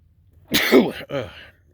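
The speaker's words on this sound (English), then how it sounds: "I'm going to sneeze." A single close sneeze, a sharp breathy burst followed by a brief second gust, in an otherwise quiet moment.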